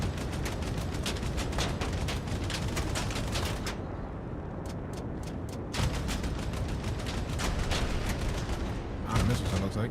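Rapid automatic gunfire in a video game rattles in long dense bursts, pausing briefly before resuming with sparser single shots and then more sustained firing, loud and close throughout.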